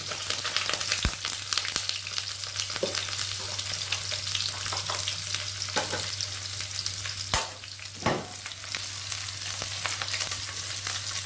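Steady sizzling of garlic frying in hot oil, with occasional sharp clicks and spatters over a low hum.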